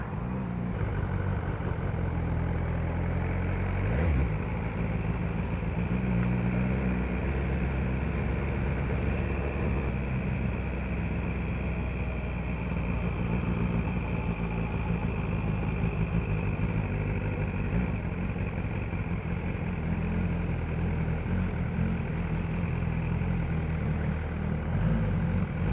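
A BMW R1250RS motorcycle engine idles in a steady, unbroken low rumble that holds an even level throughout, close by, with no voices over it.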